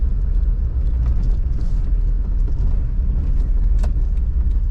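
A Suzuki Jimny 1.3 driving through tight city streets, its engine and road noise forming a steady low rumble heard from inside the cabin, with faint rattles and jingles on top.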